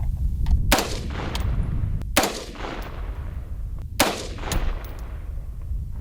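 A FoldAR folding rifle is fired at a target on a range, with several loud, sharp reports spaced a second or two apart, each followed by a decaying echo.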